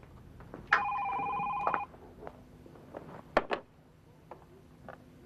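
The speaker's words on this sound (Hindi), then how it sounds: "फोन की घंटी बजी" A telephone rings in a burst of electronic tones, followed by a few short beeps and clicks as it is picked up, heard close in a quiet room.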